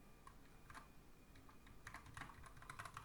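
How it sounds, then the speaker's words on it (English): Quiet, uneven typing on a computer keyboard, with scattered single keystrokes and then quicker clustered bursts, close but soft over a low background hum, with no one talking. "I cannot type for the life of me"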